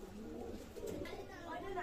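Pair of Teddy pigeons cooing softly in a running pair at a pigeon sale, with low murmuring calls layered under a person talking nearby.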